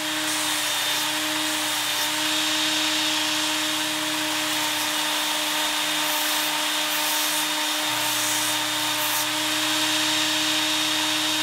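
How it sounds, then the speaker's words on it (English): Ken Onion Work Sharp belt sharpener steadily grinding a chisel bevel, a continuous high whirring hum with a faint shift in tone as the chisel sweeps across the belt; close, no talking. "I'm sweeping back and forth with a sweeping motion like this on the belt"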